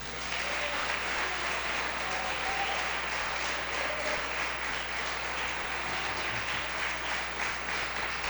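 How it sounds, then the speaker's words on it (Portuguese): Congregation applauding during a Portuguese-language church service, a steady wash of distant clapping from a large crowd, even and continuous over a low hum. "Quantos podem aplaudir o Senhor?"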